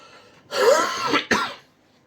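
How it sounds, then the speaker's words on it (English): A few harsh coughs close to the microphone, a throaty cough followed by a second sharp one, with no speech. "Sorry about my coughing, by the way."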